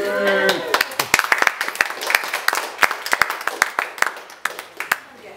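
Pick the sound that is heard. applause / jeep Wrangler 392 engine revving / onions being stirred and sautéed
applause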